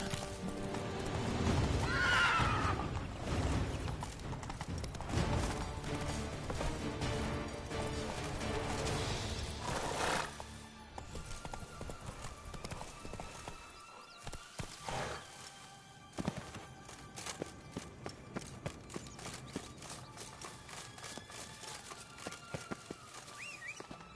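Roach the horse in The Witcher video game whinnies loudly near the start while hooves clip-clop steadily throughout, the hoofbeats thinning into sparse, separate steps in the second half.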